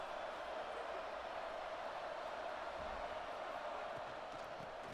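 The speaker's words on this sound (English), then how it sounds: "listen to this crowd noise" Stadium crowd roar in a college football game, USC playing the Ducks in Eugene: a steady, faint, unbroken wash of many voices with no single cheer standing out.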